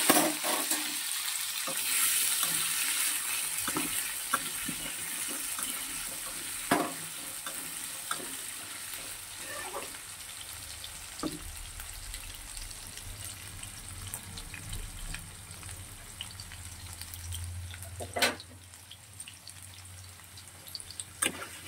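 Diced potatoes fry in hot oil with whole white mustard seeds and cumin, a steady close sizzle running throughout with occasional stirring scrapes and small pops.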